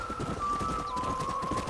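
Horse hooves clip-clop steadily at a trot on a dirt path in the video game Red Dead Redemption, a continuous close rhythm under a faint sustained musical tone, with no talking.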